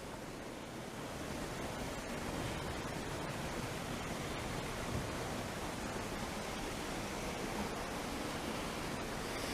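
River water flows at Joes River, a constant broadband rushing roar that stays even throughout, with some wind buffeting the microphone and no voices.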